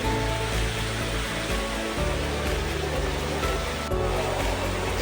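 A waterfall in a jungle-style park garden makes a constant loud, dense roar of falling water that stays steady and close, with no voices.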